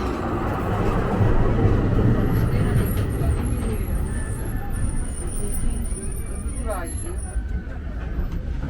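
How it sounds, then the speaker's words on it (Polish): A tram rumbles past with a heavy, rolling rail noise and a brief squeal, while people talk nearby over the traffic on a windy seaside street. "O, jedzie nasz tramwaj."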